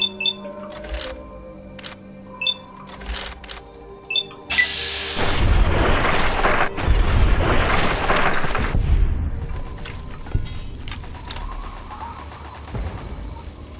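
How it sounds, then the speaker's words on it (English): Gunfire in a video game, a few sharp isolated cracks followed by a dense rumbling burst of booming shots that swells, then fades to scattered pops. "Who's shooting? And who are they shooting at?"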